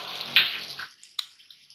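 Vinegar and soy sauce poured into a pan of vegetable noodles for Singapore chowmein, heard as a brief close liquid splash with a soft hiss, followed by a quiet tap.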